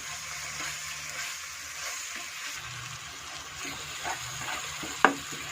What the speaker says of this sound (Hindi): अब इसे अच्छे से मैं मिक्स कर लूंगी और इसे 2 मिनट तक पकाऊंगी।